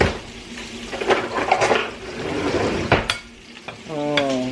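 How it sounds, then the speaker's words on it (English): Tomatoes being stirred in a greasy pan for spaghetti sauce, with wet scraping and sizzling strokes at close range and a brief tonal hum near the end. "I'm going to stir this together."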